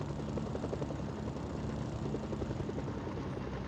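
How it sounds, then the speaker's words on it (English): A helicopter in the game Mercenaries: Playground of Destruction drones with a steady rotor chop, loud and constant throughout. "And they have their own helicopter."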